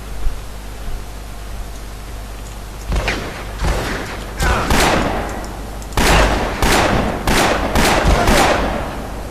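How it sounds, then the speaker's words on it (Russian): In the video game Afterfall Insanity, a series of gunshots is fired at an enemy: sharp, loud cracks, first spaced, then in quick clusters, over a steady background hiss. "Я в него стреляю"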